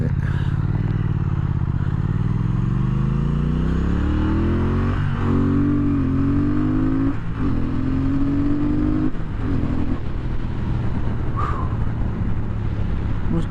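A 2017 Triumph Thruxton R motorcycle engine pulls hard through rising revs, climbing in pitch with brief dips at gear changes, loud and close under steady wind rush while being ridden.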